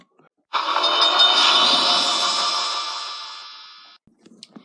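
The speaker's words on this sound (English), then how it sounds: "Then what are we sitting around for? Let's go," Thomas said, and he puffed away." A single long, loud train whistle or horn sounds for about three and a half seconds and slowly fades, followed by faint clatter.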